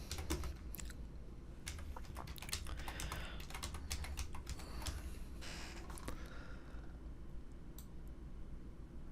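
Steady, fast typing on a computer keyboard while editing web page text, a close run of crisp clacks that thins out toward the end over a low background hum.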